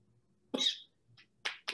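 A person coughs several times at a quiet poetry showcase, with one harsh cough followed by two shorter ones after a pause. Fairly faint, with no speech.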